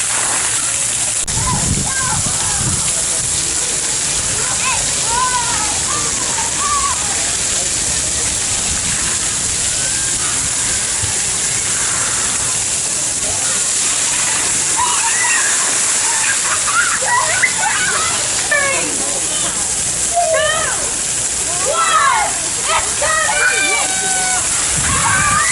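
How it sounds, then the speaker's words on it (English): Steady hiss of a splash pad spraying water with splashing at Gatorland in Orlando, under lively chatter and children's voices nearby throughout. "He's got a pretty nice splash pad"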